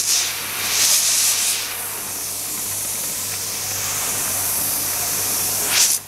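Kitfort KT-961-2 handheld garment steamer hissing steadily as its water boils, with louder bursts of steam hiss near the start and again just before the end, no voices.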